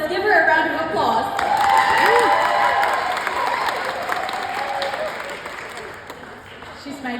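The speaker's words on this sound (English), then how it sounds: "let's give her a round of applause" An awards-ceremony audience claps steadily for a nervous performer, a broad wash of applause with crowd noise, while voices talk over it throughout.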